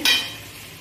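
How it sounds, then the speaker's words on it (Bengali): A single short scrape and sizzle as garlic chicken is stirred in a pan, quickly fading to a low hiss. "এবার এটাকে ভালো করে নাড়াচাড়া দেবো।"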